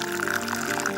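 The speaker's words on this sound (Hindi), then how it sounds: "ये पका हुआ पनीर इसमें डाल दें।" Cooked paneer, hot curdled milk and whey, poured into a muslin cloth spread in a large bowl, giving a steady continuous splashing pour of liquid that runs without pause from start to end.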